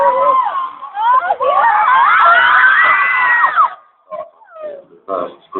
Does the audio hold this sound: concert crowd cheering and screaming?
yes